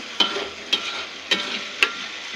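A sauce with apple vinegar for Korean fried chicken is stirred in a pan, four evenly spaced scraping strokes over a soft background sizzle.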